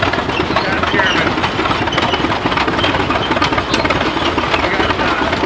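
A 1911 Rumely tractor engine runs at a Pioneer Day event, giving a loud, steady, rough chugging with a dense rhythmic knock that carries on without a break.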